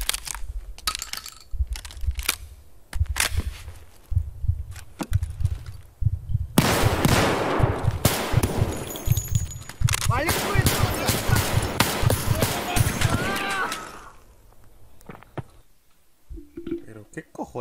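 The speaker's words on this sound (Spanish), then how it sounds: "Dos tiros en la cabeza con una escopeta." Shotgun blasts and other gunfire in the Escape from Tarkov video game ring out as sharp, repeated cracks amid clattering, crunching game sounds, with players talking throughout.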